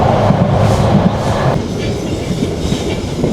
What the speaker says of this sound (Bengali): আমাদের ট্রেন যে ট্রেনে আমরা আসতেছি চট্টলা এক্সপ্রেস এটা কসবা রেলওয়ে স্টেশনে দাঁড়াবে এখন